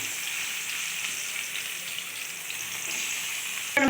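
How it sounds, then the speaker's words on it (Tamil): Grated mango fries in hot oil with a steady, even sizzle that carries on alone, broken by a brief utensil clatter at the very end. "அதில் எடுத்து கொஞ்சம் கொஞ்சமாக போட்டு வதக்குவோம் கொஞ்சம் நேரம்"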